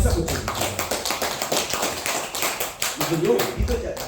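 A church congregation at a Sunday worship service claps together in a dense, rapid burst of applause that fills the room, with voices mixed in.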